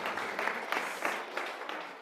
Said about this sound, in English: big round of applause for Dr. Jennifer Gray